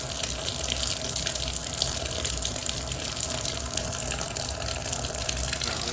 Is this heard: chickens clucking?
no